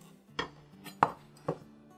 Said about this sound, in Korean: 쪽파가 없어서 그냥 대파를 반으로 갈라서 가늘게 잘라줄게요